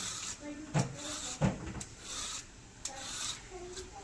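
A peeler scrapes the ridged skin off a ridge gourd in a home kitchen, with a few short rasping strokes and soft knocks. Someone talks throughout.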